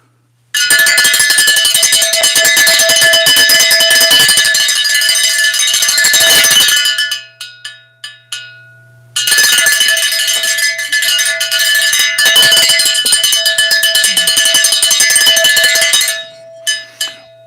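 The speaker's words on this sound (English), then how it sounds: "I'm going to ring the bell." A hand bell clangs rapidly and continuously for several seconds, stops with a few stray rings, then resumes its loud, fast ringing before trailing off.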